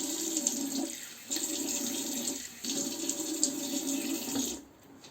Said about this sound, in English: So let's wet the face and start lathering.